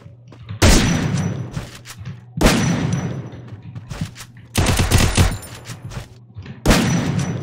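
Video game gunfire on the SmartGaGa emulator: four loud, close bursts of rapid shots, each fading into a short tail, spaced a second or two apart with no talking.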